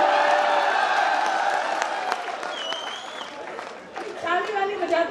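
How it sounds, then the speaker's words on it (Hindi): An audience applauding and cheering at a comic poetry recital, a dense wash of clapping with whoops that thins out, then picks up again briefly at the end. "ताली वाली बजाते रहिए, बस केवल ताली"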